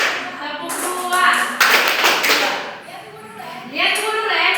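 Children clap their hands together in a counting exercise during a maths lesson, producing a few scattered claps and taps under an adult's voice speaking over them.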